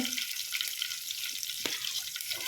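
Green chillies fry in a pan as the tempering for chapati oggarane, giving a close, steady, hissing sizzle that lasts a couple of seconds, with no voices.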